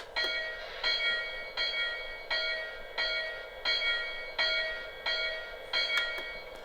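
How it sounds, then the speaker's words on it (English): Electronic bell of a Lionel Rock Island 2-6-0 Mogul model steam locomotive rings about nine times at an even, steady pace, each clang ringing briefly before the next, clear and close with no voices. "So let's hear the engine's bell."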